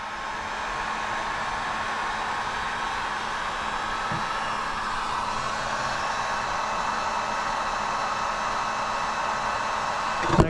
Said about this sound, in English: we'll give this one more final heat and really seal that edge